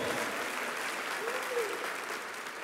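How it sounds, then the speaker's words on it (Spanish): Steady applause from a church congregation fills the space, a continuous clatter of clapping with a voice faintly underneath. "denle un aplauso bien fuerte a Jesús"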